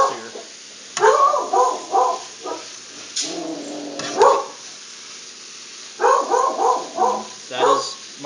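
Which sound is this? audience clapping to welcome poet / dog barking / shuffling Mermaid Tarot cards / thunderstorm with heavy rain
dog barking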